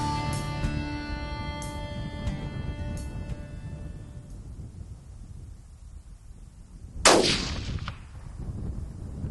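A single sharp rifle shot cracks out partway through during a buck hunt, loud against a steady outdoor wind rumble, with faint ringing tones fading out beforehand.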